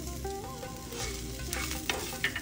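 Small red onions, garlic cloves and ginger fry in a pan with a soft, close sizzle and repeated stirring scrapes, quiet overall with a couple of brighter crackles near the end.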